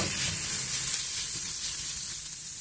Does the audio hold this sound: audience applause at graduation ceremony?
no